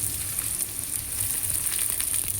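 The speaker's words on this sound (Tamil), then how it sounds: "அப்புறம் வெங்காயம் சேர்த்துக்கோங்க. 4 பெரிய வெங்காயம் பிரியாணி மாதிரி கட் பண்ணது." Four large onions, sliced biryani-style, frying in plenty of oil for paneer biryani, giving a loud, continuous hiss and crackle with faint stirring underneath and no voices.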